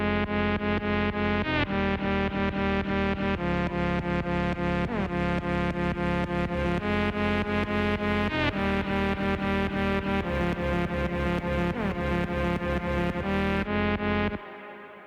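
A dense, sustained electronic tone plays a looping melody from a chopped sample with no effects, notes shifting every second or so, bright and continuous before stopping abruptly near the end.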